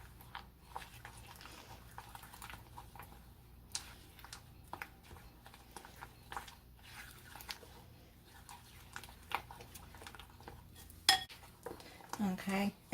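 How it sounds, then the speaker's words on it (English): Spoon scraping and clinking against a bowl while a coconut mixture is stirred for an Almond Joy poke cake, soft irregular taps and scrapes close by, with a few louder knocks near the end. "now what you're going to do is you're going to stir that into with the coconut"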